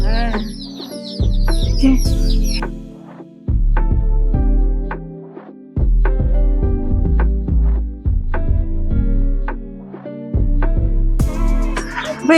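Chicks, with adult chickens nearby, chirp and cluck at a hill-station farm in Yelagiri, loud close repeated calls in uneven bursts with short gaps between them.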